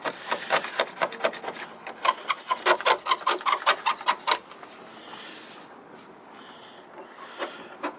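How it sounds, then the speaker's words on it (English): Aluminium paint being scraped by hand off a boat hull in a yard, a rapid run of loud rasping strokes for about four seconds, then a few faint scrapes far off against quiet background. "he's scraping off all of the aluminium paint, which had flaked off a little bit like that"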